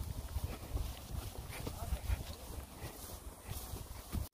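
Hooves of a horse carrying a rider uphill through bushes on a hot day, giving steady, close clip-clop steps over rustling ground, with faint talk mixed in.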